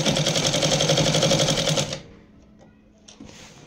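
A sewing machine stitching a petticoat runs in a fast, loud, even mechanical rattle for about two seconds, then stops abruptly, leaving a quiet room with a few faint handling clicks.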